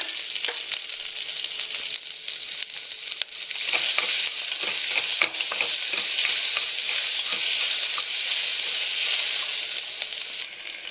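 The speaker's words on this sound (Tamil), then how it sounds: "இப்போ வெங்காயத்தை போட்டு நல்லா வதக்கணுங்க." Onions sautéing in oil with chana dal, dried red chillies and curry leaves give a steady, loud sizzle close up, broken by light scrapes of stirring, with no one talking.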